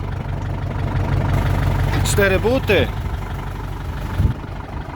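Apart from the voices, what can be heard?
Massey Ferguson 3080 tractor engine idling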